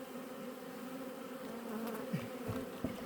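Young honeybee swarms hum steadily while being fed a mix of honey and water, a continuous close buzzing drone with a few individual bees passing nearer near the end.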